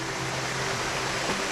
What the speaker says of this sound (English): this is one of the small waterfalls over here